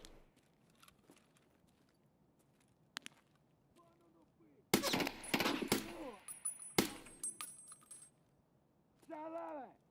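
Full-auto 5.56 rifle fire in the video game Rust: a few faint clicks and taps, then dense, loud rapid bursts in the middle, with a voice talking near the end.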